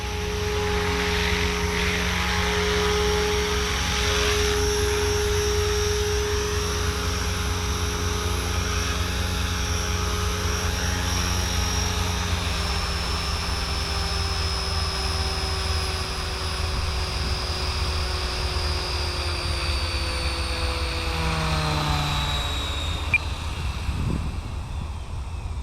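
A Blade 500 3D RC helicopter flying, its rotor and motor giving a constant loud whine with steady tones that shift in pitch as it maneuvers, running without a break.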